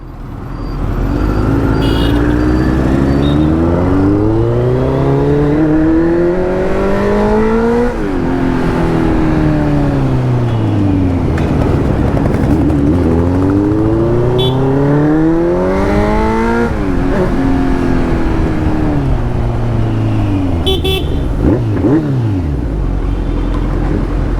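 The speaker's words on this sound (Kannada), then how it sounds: "ಇದ್ರ ಎಕ್ಸಾಸ್ಟ್ ನೋಟ್ ಇನ್ನೊಂದ್ಸಲ ಕೇಳಿಸ್ತೀನಿ ನೋಡ್ರಿ" A Kawasaki Z900 with an Arrow full-system exhaust and dB killer fitted revs repeatedly, its deep exhaust note sweeping up and down in pitch through several throttle blips, loud and close with no talk.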